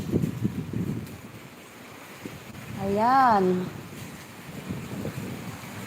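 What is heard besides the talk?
strong wind blowing outdoors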